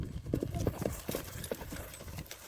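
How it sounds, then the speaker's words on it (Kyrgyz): A Kyrgyz racehorse gallops over a short distance, its hooves drumming out a quick, uneven clip-clop rhythm at moderate distance, fading slightly toward the end. "Мынакей достор, атты кыска гана аралыкка чабып көрөбүз"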